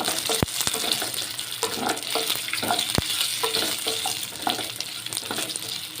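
Beetroot dumplings being stirred into cooking dal in a pot, with a steady scraping and swishing of the spoon, soft wet plops and a few sharp clinks against the vessel, all close and without any talk.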